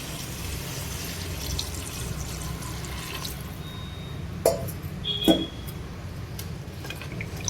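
Soft, continuous pouring of water into a pot of mutton curry before pressure cooking, with two brief metallic clinks partway through; no talking.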